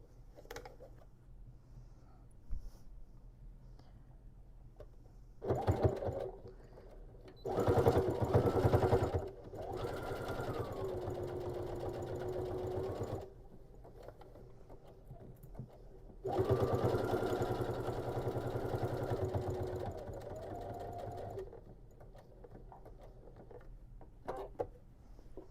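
A sewing machine stitching a tote bag seam runs in several bursts of rapid, buzzing stitching, separated by short pauses and quiet handling sounds.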